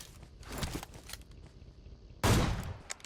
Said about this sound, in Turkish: Onu vuracağım arkadaşlar.